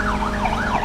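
Police siren wailing in the Need for Speed Unbound racing game, a loud rising-and-falling electronic tone sweeping steadily over a constant engine rumble during a chase.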